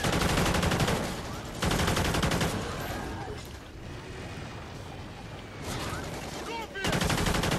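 Rapid, sustained AK-12 assault rifle bursts in Call of Duty: Ghosts, loud and close, coming in several long strings with short pauses between them and a rough, dense background underneath.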